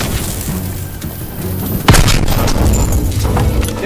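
A thermite charge detonates on an enemy gun in the Call of Duty WW2 battle at Hürtgen Forest Hill 493. One sharp, loud boom cuts through a steady wartime din and leaves a rumbling, crackling tail.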